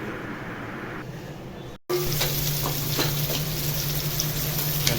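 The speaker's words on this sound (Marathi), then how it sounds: "तर आता आपण फ्राय करून घेऊ." Spiced fish and prawns sizzle in a hot pan, a dense, steady frying hiss that starts quieter and jumps louder after a brief break, with faint stirring clicks.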